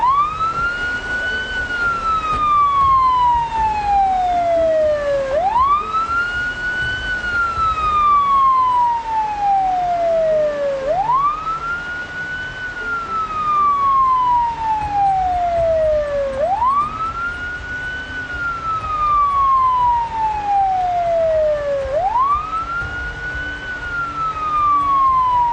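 Ambulance siren in the zombie survival game Project Zomboid wailing in long, repeating rising-and-falling sweeps, about five cycles, loud and close, with no talk over it.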